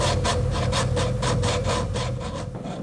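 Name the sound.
finger rubbing sandpaper on a rotating wheel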